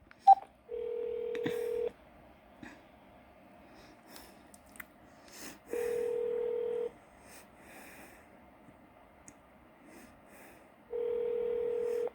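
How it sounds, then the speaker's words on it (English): Telephone keypad tones on a police department phone line as the 9 key is pressed: three steady, loud beeps of about a second each, separated by long quiet gaps with faint line hiss. "I'm pressing 9 for the chief."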